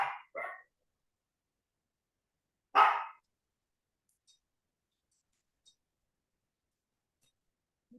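Dogs barking at a distance: a couple of quick yips and then one sharper bark a few seconds later, with quiet gaps between and a few faint clicks.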